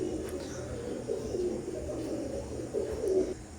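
KTM Teddy pigeons cooing, a young pair; soft, low repeated coos come in two short bursts over quiet background hum, close and fairly faint.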